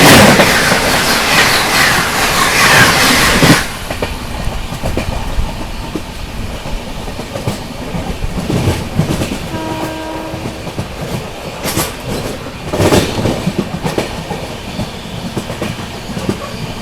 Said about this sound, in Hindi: अभी देखो सामने से आ रही है दादर जोधपुर सुपरफास्ट।